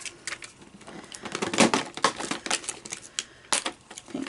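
Scissors snip a piece off a craft embellishment in a series of crisp, close clicks and cuts of uneven rhythm, with no talking.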